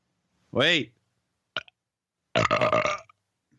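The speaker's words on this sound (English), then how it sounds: "That was a real burp." A person lets out a loud close-up burp in a quiet room, then a short click and a longer, rougher burst that may be another burp or a voice.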